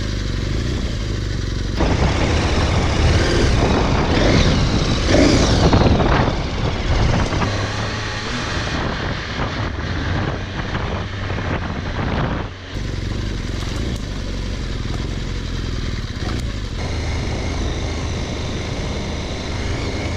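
Large adventure motorcycles, a 2018 BMW R1200GS, a KTM 1290 Super Adventure and a Triumph Tiger 1200, ride off-road enduro. A loud, continuous engine drone rises and falls, with wind and rough clattering and no talk.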